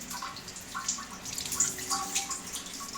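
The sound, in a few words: water rinsing a car DPF filter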